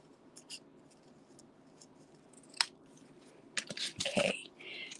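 Scissors cut paper for a stamped watercolor card, close and fairly quiet, with a few short snips and then a quick run of louder cuts near the end, over faint room noise.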